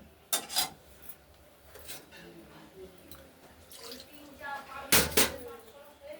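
Chickpeas and potatoes being sautéed in a pan for chana masala, with faint, intermittent scraping and rasping from stirring and a couple of sharper clatters against the pan.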